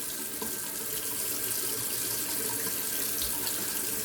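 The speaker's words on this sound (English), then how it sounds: "I'm gonna wet my face." Tap water runs steadily into a sink, a continuous close splashing flow with no pauses, used for wetting the face before a straight razor shave.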